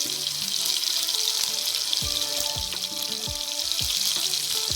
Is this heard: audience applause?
no